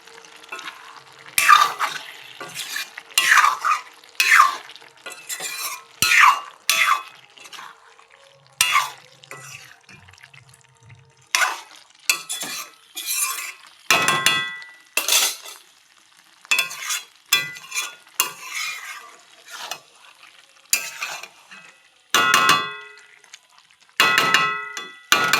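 A jackfruit and pea curry is stirred in a pan after ghee goes in, with repeated scraping strokes and metal clangs in an irregular rhythm, close and fairly loud, over a soft sizzle.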